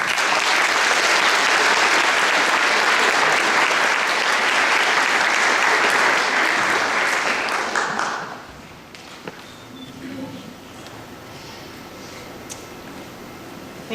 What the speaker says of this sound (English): she deserves a round of applause as well for some of the things that she's done